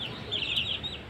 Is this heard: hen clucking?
yes